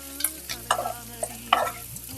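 Already-fried prawns tossed with onions in hot oil for a spicy Marakkanam-style prawn roast, with a steady low sizzle broken by several sharp scraping stirs of the spatula against the pan, close and clear with no talking.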